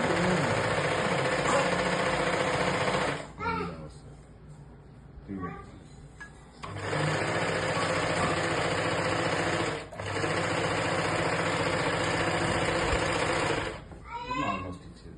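Sewing machine stitching in close, steady whirring runs with a fast mechanical rattle, stopping briefly twice while someone talks over the pauses.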